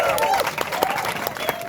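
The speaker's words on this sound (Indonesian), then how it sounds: "tepuk tangan dong." During a Balinese comedy show, the audience claps and cheers briefly while a voice carries on over the patter of hands.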